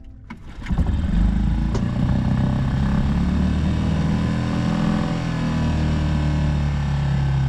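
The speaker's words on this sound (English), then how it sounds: "Let me get the engine running first." Sailboat's engine cranks and catches after a short start, then settles into a steady, loud, close idle rumble that runs evenly to the end with no voices over it.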